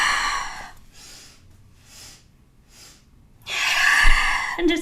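Slow breathing during a yoga class: a long airy exhale at the start, quieter breaths through the middle, then another strong, drawn-out breath near the end, close and without talk.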